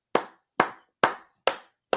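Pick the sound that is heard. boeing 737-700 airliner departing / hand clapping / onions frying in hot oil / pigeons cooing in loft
hand clapping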